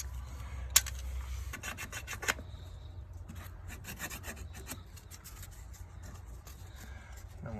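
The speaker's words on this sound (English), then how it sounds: "So we got to clean that with some sandpaper." Sandpaper rasps against CPVC pipe while a broken hose bib is repaired, a steady close scratchy rubbing that runs throughout, with a sharp tap near the start and no talk.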